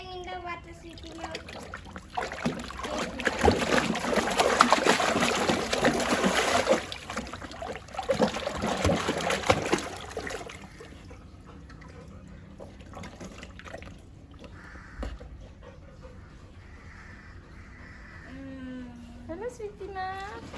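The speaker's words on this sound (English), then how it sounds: "Look, it's a shower." Water from a shower splashes loudly and steadily outdoors where a Labrador plays, fading to a lower trickle later, with a person talking over it and occasional high voice sounds.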